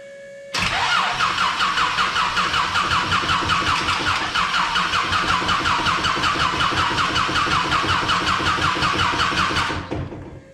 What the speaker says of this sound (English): Now all I gotta do is feed this 12 volts and the motor theoretically should start.